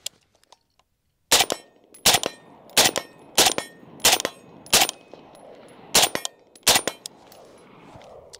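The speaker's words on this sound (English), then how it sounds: "keep my right hand on the gun, and yeah, shoot a couple more rounds" An FN SCAR 16 SBR rifle fires nine sharp, loud shots at a steady pace of roughly one every 0.7 seconds, each crack followed by a brief echo, after a near-silent start.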